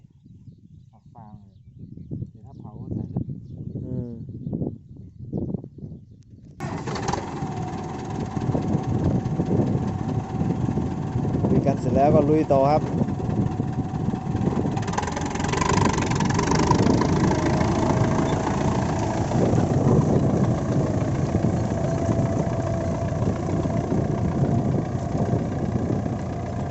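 A Ford 6610 tractor engine rumbles and chugs steadily at close range for most of the stretch, with someone speaking briefly at the start before it starts up.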